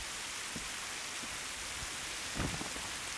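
Rain falls outside the grounds beyond a sitting room, a soft, continuous hiss with a few faint thuds scattered through it.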